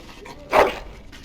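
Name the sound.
dog whimpering, from video game Dragon Age: Origins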